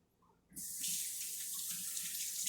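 A tap opens after half a second of quiet, and water runs steadily into a sink as hands are washed, a close, bright, continuous rush.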